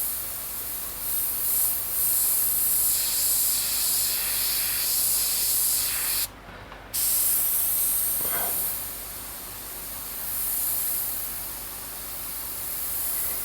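An airbrush sprays paint onto a Senna F1 car model with a steady, close hiss that drops out for a moment midway and then resumes, with no voices.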